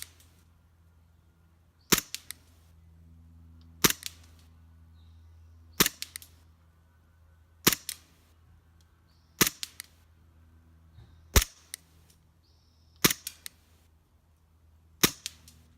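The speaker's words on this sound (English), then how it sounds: "First shooting test, I have 7 shots, as you can see." Elite Force Glock 17 Gen 4 airsoft pistol firing test shots, about eight sharp single cracks spaced roughly two seconds apart, each followed by a faint rattle, close and crisp over a low hum with no talking.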